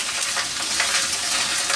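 Ginger paste frying and spattering over potatoes in a hot pan, a steady close crackling sizzle with bursts of spitting and stirring, no voices.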